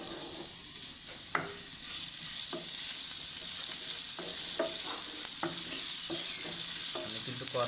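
Bitter gourd fries on high heat with chopped onion, garlic and green chilli in a steady loud sizzle. Frequent spatula scrapes and clacks against the pan break through at irregular intervals, and no one talks.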